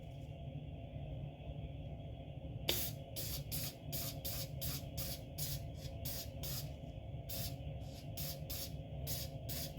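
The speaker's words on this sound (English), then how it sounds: "And we're just going to give it a good spray down." Repeated short bursts of aerosol cleaner spraying onto Kimber 1911 pistol parts, hissing in quick irregular succession over a low background hum, close and fairly loud.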